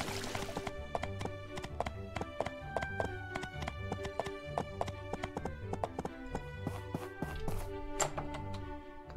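Horse hooves clip-clop in the video game My Time at Portia, a quiet, steady run of rhythmic hoof beats continuing throughout.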